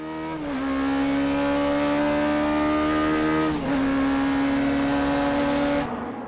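Toyota AE86 race car with a 4AG engine screaming near its 9800 rpm limit at Tsukuba, loud and continuous with a steady high pitch, a quick gear-change dip midway and the engine cutting off near the end.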